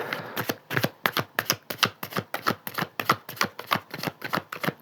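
Tarot cards riffle in a rapid, even rhythm, about three crisp flutters per second, close up and clear, with no talking over them.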